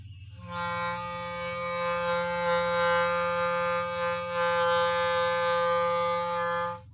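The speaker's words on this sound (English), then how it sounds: "So that's a low note. I can still go lower because the clarinet has some more lower notes." A sustained low reedy clarinet note held steadily for several seconds, played alone.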